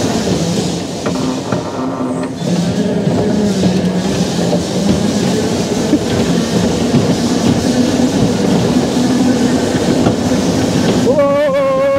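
A small toy train ride at an amusement spot in Manali, India, keeps up a continuous rolling rumble with faint rhythmic clatter, close and fairly loud throughout, with a brief squeal near the end.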